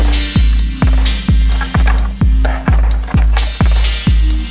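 A small solar-powered fan in full sun whirs fast and steadily with a low hum, a rhythmic thump repeating about twice a second, close by with no voices.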